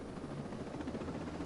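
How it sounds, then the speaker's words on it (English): Helicopter in the video game Ghost Recon Breakpoint, a steady low rotor thrum with a rhythmic beating pulse, faint and continuous with no talk. "Now just take this helicopter and get to"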